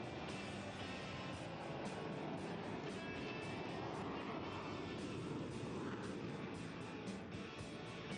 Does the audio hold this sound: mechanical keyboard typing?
no